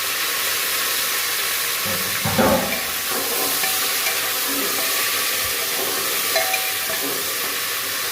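Taro and pumpkin sizzle in hot oil, giving a steady, loud frying hiss throughout, with a brief clatter of stirring partway through.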